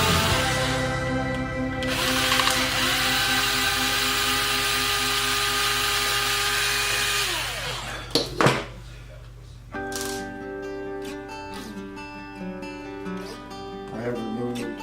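A power tool whirs loudly while removing screws from a Subotech BG1508 RC boat, a steady high motor whine for several seconds that stops abruptly, followed by clicks and lighter handling noises.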